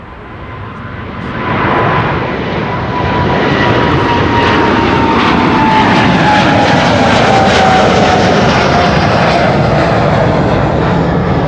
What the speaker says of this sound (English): KLM flight 667 is going to Austin, Texas. That's a 787-10 Dreamliner.